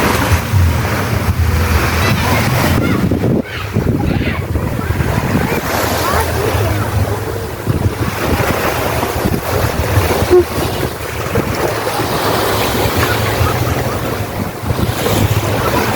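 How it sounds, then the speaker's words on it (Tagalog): Sea waves wash steadily onto a beach with constant wind buffeting the microphone, a dense, continuous roar of surf that stays loud throughout without any pauses. "nakarating na rin kami sa dagat"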